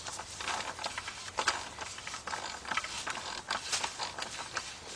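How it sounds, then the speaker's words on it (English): A 1/2 inch drive ratchet with a 2-inch extension and 24mm socket loosens a bolt on a Chrysler, Dodge or Jeep vehicle, making a steady run of close, rapid clicking pawl ratchets without pauses. "we got 24mm 1/2 inch drive, 2-inch 1/2 inch drive extension, and my 1/2 inch drive ratchet."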